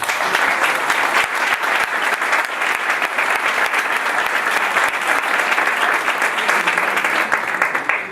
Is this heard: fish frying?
no